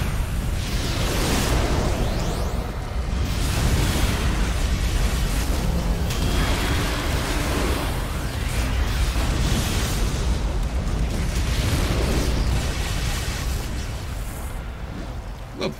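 Fire blast attacks in the City of Heroes video game produce a loud, continuous roaring rumble of explosions and whooshing bursts. A faint voice sits under the din.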